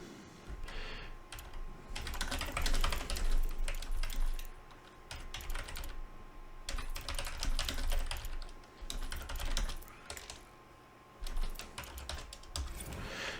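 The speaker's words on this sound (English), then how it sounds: "I'm just gonna type in that it's complete, and we're gonna randomize a new item." Computer keyboard typing in steady bursts of clicking keystrokes, close and fairly quiet, with brief pauses between runs and no voices.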